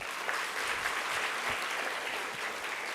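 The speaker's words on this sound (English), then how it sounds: "So could you have a big round of applause for him again?" Steady, dense applause from a university lecture audience after a talk by a Nobel laureate, sustained and even throughout.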